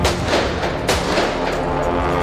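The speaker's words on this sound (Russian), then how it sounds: "у Насти она стреляет с открытыми глазами." Gunshots in a film scene, a dense burst of loud booming shots with rumbling echoes that overlap into continuous rapid fire.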